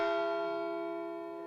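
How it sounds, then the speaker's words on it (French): A single church bell from a village bell tower in Molenbaix rings out loud and close, its rich ringing tone slowly decaying. "Le clocher a retrouvé ses cloches."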